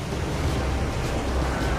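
Floodwater from a river that has broken its banks in Kedarnath, in the Himalayas, roars in a dense, steady wash of rushing water, loud and close, with no voices.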